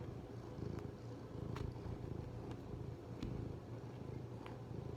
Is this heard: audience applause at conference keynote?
no